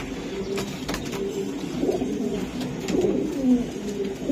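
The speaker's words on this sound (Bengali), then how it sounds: "এটা দেশি কবুতর, খুবই সুন্দর নর।" Nearby pigeons of a local breed coo in soft, low, rolling calls that repeat steadily, with faint background noise and no talking.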